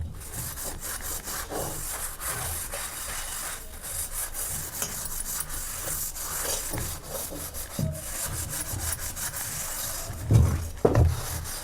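Dishes scrubbed by hand in cold water, a steady, gritty rubbing and scraping repeated in quick strokes, fairly close, with a couple of sharper knocks of utensils near the end and no talking.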